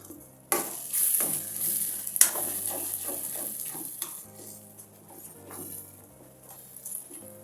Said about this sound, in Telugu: ఇవన్నీ పచ్చవాసన పోయేంత వరకు బాగా వేయించుకోవాలి